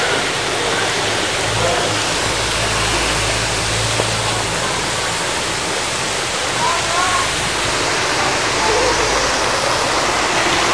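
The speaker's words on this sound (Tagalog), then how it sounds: "Tapos bagsak tubig." The Palsahingin Falls waterfall in Cavite crashes down in a loud, steady roar of rushing water close by that fills the whole scene without letting up.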